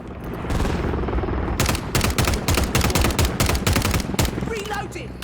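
Heavy gunfire in Call of Duty Modern Warfare 3, rapid automatic bursts and single cracks rattling close and loud across a dense battle din.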